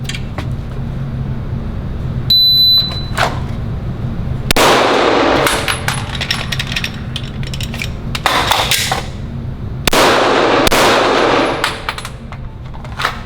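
Pistol shots in bursts at an indoor range, with sharp percussive cracks clustered around 4.5, 8.3 and 10 seconds and a brief electronic shot timer beep near 2.5 seconds, set against steady ventilation hum.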